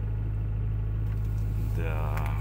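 Hyundai Solaris engine idling in -26°C frost, a steady low rumble with a constant droning hum, a brief rev-like rise near the end.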